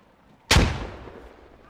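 A frag grenade goes off in the military shooter SquadOps: one sudden, loud, close blast with a booming low end that fades away over about a second.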